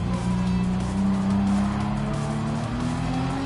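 Car tires skid and squeal in Gran Turismo 7 as the car nearly spins out, a continuous loud racing engine drone with a sustained screeching tire tone running throughout.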